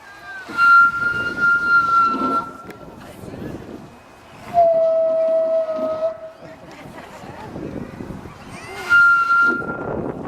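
A walrus at an aquarium whistles: long, clear whistles rise and hold at a steady pitch, three separate calls with softer voices murmuring underneath.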